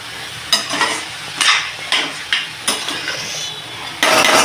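Vegetable momo stuffing stirred in a pan over high heat, with repeated scraping strokes of a utensil against the pan over a steady sizzle, close and fairly loud.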